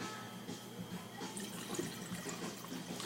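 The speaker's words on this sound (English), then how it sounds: "Let's give this a pour." Red wine from Madiran, southwest France, a blend of 60% Tannat with Cabernet Franc and Cabernet Sauvignon, is poured into a glass as a faint, steady liquid trickle lasting about three seconds.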